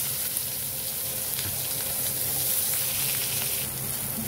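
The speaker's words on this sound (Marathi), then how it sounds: "कांदा टाकून घेतला." Chopped onion frying in a pan with garlic for a green chilli curry, making a steady, loud, continuous sizzle throughout with no talking.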